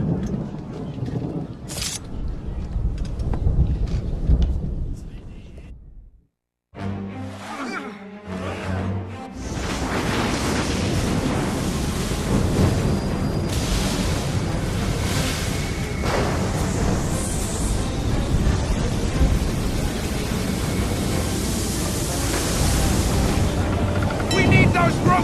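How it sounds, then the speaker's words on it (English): A thunderstorm at sea in Assassin's Creed 3, with roaring wind and crashing surf that fill the scene, a deep boom after a brief hush, and voices shouting over the churning storm. "You wish us to sail into the storm?"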